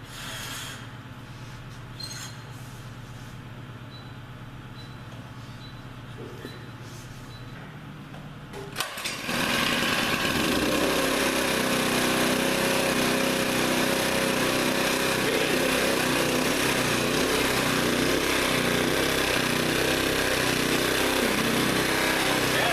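A small engine with its choke set starts abruptly after a quieter stretch of idling background noise, then runs steadily and loudly close by, with a constant buzzing drone to the end.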